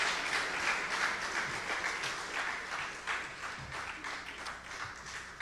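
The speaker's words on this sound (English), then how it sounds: "another round of applause for Dr. Jean Leon." Steady audience applause fills a hall at the opening ceremony of a broadcasting union's annual general assembly, a continuous wash of many hands clapping at moderate distance, fairly quiet overall.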